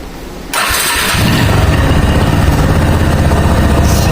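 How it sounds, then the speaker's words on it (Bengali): A motorbike is started with its self-starter: a brief quiet, then the engine catches abruptly and settles into a loud, steady, close idle. "স্টার্ট দিয়ে দেখাই গাড়িটা।"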